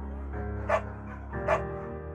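A beagle in the video game Firewatch gives two short, distinct barks, spaced under a second apart, over a low, steady in-game background hum.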